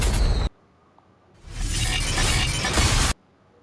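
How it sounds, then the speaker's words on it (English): A glass-breaking sound effect from the PS5 ShareFactory editor: a short crisp burst, a pause, then a longer bright shattering and scattering spill that stops abruptly, with no talk over it. "Glass break."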